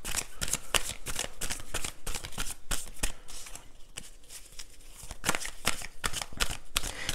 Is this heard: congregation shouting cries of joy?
no